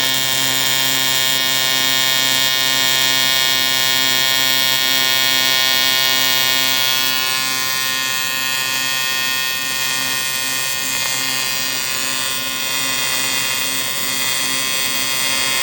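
AC TIG welding on aluminum with a filler rod, a loud, steady electric buzz with a strong hum that holds throughout and shifts slightly in tone partway through.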